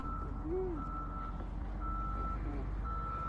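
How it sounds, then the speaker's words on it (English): Repeated high-pitched reversing beeps sound over a steady low engine rumble, evenly spaced and moderately loud, with a faint lower tone drifting underneath. "I don't know if the beeping sound is actual big truck equipment"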